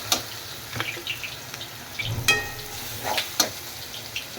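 Masala spices fry in a pan for Marathi-style egg rice, a soft steady sizzle broken by light crackles, pops and an occasional scrape of a spoon, close and fairly quiet.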